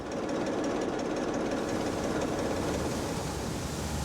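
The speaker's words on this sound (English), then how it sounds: "The old engines only get fired up for trial runs now, but they still purr like they did back in 1945." The 1945 engines of an old salvage ship run steadily below deck, a continuous loud rumbling drone with rapid mechanical knocking and no pauses or talk.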